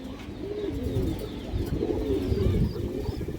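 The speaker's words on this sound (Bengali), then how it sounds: "খুব সুন্দর একটা চিলা নর কবুতর" A male Chila pigeon coos in a steady, soft rolling series of low throaty calls, close and clear, with a faint background hum and no talk.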